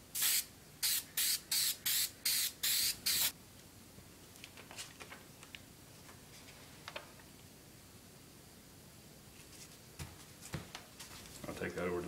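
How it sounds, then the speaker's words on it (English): 3M spray adhesive spraying onto a paper pattern for wood, in eight quick hissing bursts close up, followed by quiet handling clicks and faint rustling. "I'm using this 3M spray adhesive"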